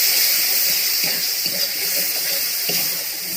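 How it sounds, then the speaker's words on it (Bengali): A little water is poured into a pan of fish head and cabbage with turmeric, a steady broad rushing pour close by that runs the whole time, with only faint background sounds. "এবার অল্প একটু জল দেবো যাতে লেগে না যায়।"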